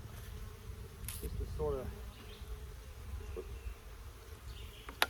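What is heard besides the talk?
honeybees buzzing at a beehive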